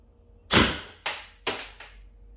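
Tippmann TiPX paintball pistol fired outdoors, stock out of the box: four sharp pops, the first loudest, each with a short decaying tail, spaced about half a second apart and heard alone.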